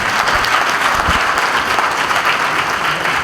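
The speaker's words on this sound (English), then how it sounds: "Round of applause for him as he gives his speech." An audience at a passing out parade and commissioning ceremony for special duties cadets claps steadily, a dense, even wash of applause that fills the whole stretch with no voices on top.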